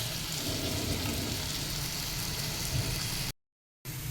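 Potatoes stir-fried in oil in a pan over a high flame make a dense, even sizzle up close, with faint stirring and a brief silent break near the end.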